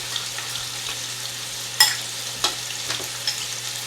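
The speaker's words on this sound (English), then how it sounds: "Let me mix that up real good. Get that Worcestershire sauce in with the soup." Worcestershire sauce is stirred into soup for a crock pot roast with soft, intermittent scraping and clinks over a faint steady hum, close and moderately quiet, with no talk.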